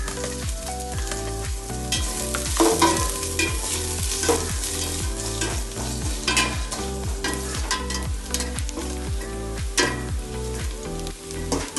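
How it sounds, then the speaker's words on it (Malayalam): Thinly sliced onions frying in hot oil and being stirred in a pan until brown, for Kerala-style neychor: a loud, steady, close sizzle with repeated rhythmic scraping strokes and no talking. "ഈ സവോളേനെ ഞാൻ വറുത്തെടുക്കട്ടെ, ഒരു ബ്രൗൺ നിറത്തിൽ ചെറുതായിട്ട് കനം കുറച്ചായിട്ട് ഈ സവോളനെ വറുത്തെടുക്കണം കേട്ടോ."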